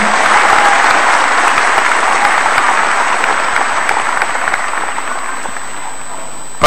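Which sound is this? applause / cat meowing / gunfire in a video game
applause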